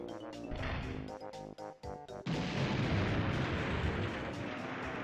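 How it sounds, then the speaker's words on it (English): A cartoonish explosion in the Nintendo game Banjo-Kazooie bursts in after a stretch of choppy game music, a broad roaring blast that sustains loudly for several seconds. "It was like the lamest explosion ever."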